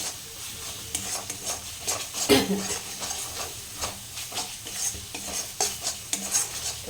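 Spice masala with Kashmiri chilli powder is stir-fried in a pan, a soft sizzle under repeated scraping and clinking strokes of a spoon against the metal, in an uneven rhythm.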